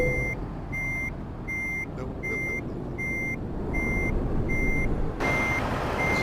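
A long truck backs into a blindside parking spot, its steady reversing beeps repeating at an even rhythm over a constant diesel engine rumble, loud and close.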